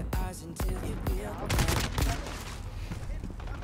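AK-47 Gold gunfire in a video game: a few spaced single shots followed by a dense burst of automatic fire, loud and close, with a voice talking over it.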